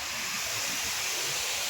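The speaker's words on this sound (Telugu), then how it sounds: "వాటర్ ఇక్కడ గేట్ తెరిచారు." Water rushes through an opened gate of the Thotapalli barrage, a loud, dense, continuous roar of spray and flow, close and steady for a brief stretch.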